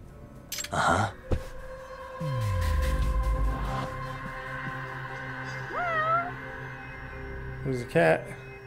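A cat meows in the video game Judgment, a couple of short mewing calls rising over game music and ambient hum, with other brief game sounds around them.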